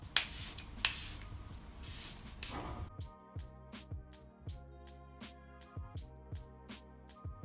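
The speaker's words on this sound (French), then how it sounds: "je vais venir appliquer le Airbrush Flawless Spray de Charlotte Tilbury pour apporter un peu plus d'éclat à mon visage" Charlotte Tilbury Airbrush Flawless setting spray misted onto a face in four or five short, close hisses, followed by a run of soft, evenly spaced clicks.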